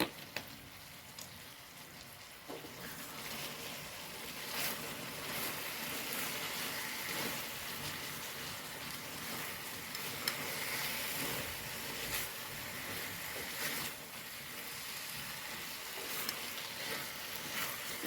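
Banana pieces frying in a pan give off a steady, moderate sizzle and hiss, with faint stirring and scraping scattered through; no one speaks.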